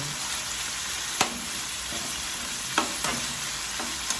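Pork pieces frying in a pan ahead of the garlic and onion for a creamy pork with mushroom dish, a steady close sizzle punctuated by several sharp spatula clacks and stirring knocks.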